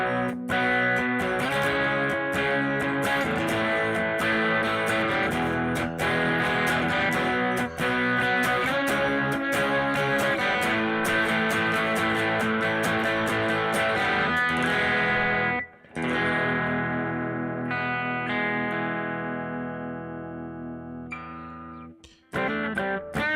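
Distorted electric guitar played on the bridge pickup, dense sustained chords ringing loud and steady for about fifteen seconds, then a brief cut and thinner lingering notes before fading out.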